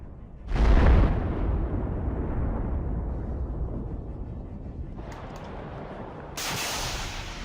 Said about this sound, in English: The Russians noticed the approaching Bradley and launched a Cornet missile.